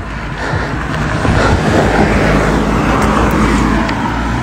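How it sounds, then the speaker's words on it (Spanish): A car passes close by on a sloping road, heard from a bicycle as a loud, steady rush of engine and tyre noise that stays strong throughout, with no talking. "Pilas, ahí viene un carro,"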